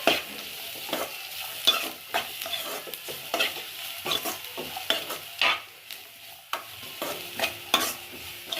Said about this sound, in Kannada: ಸ್ವಲ್ಪ ಬೆಳ್ಳುಳ್ಳಿನ ಸಣ್ಣದಾಗಿ ಹಚ್ಚಿಬಿಟ್ಟು ಸೇರಿಸ್ತಾ ಇದ್ದೀನಿ ಅದನ್ನು ನೀಟಾಗಿ ಫ್ರೈ ಮಾಡ್ಕೊಳ್ಳೋದು